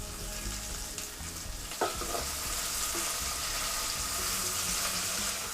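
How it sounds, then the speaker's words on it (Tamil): Chopped tomatoes and onions fry in a pan with a dense, steady sizzle throughout, and a brief clatter of stirring about two seconds in. "இப்போ நம்ம கட் பண்ணி வச்சுருக்க தக்காளியும் சேர்த்துடலாம்"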